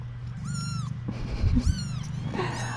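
Noisy young kittens give three clear, high, drawn-out meows in quick succession, close by, with small shuffling sounds between them.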